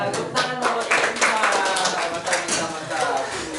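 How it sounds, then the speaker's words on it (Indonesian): A classroom of students claps together in a dense, sustained round of applause, with voices mixed in over the clapping. "Tepuk tangan buat kita."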